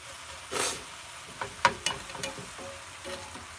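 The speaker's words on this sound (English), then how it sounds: "We'll let that sizzle for a while, and then we'll put the rest of the vegetables in." A soft, steady sizzle of seasoned vegetables frying in a pan, with a few clinks and scrapes of stirring scattered through it.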